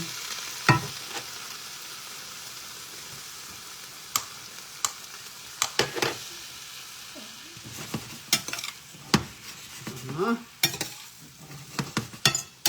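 A spatula scrapes and clanks against a pan while a simple dish cooks with a soft sizzle underneath, irregular sharp knocks scattered across the stretch, close by with no talking.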